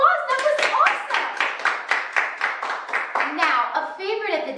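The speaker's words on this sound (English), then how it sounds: "Give yourself a round of applause." A group of toddlers clapping in a quick, steady rhythm during a dance class, with excited young voices chattering over the applause throughout.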